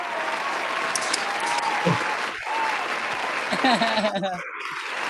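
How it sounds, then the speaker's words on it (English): At an Indonesian and Australian youth networking event, an audience applauds in a steady dense wash of clapping, with a few voices and cheers rising over it near the end. "can we please give a round of applause for Masdan and Abdul?"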